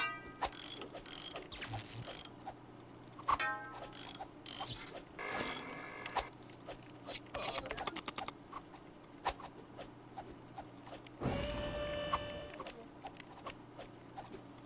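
Machine being rebuilt from Lego bricks in The Lego Movie Videogame: a busy run of clicking, ratcheting and clattering piece sounds in bursts, with a longer whirring stretch near the end.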